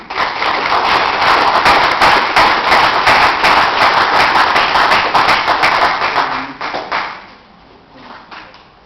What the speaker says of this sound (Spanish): Recibamos al ingeniero con un fuerte aplauso.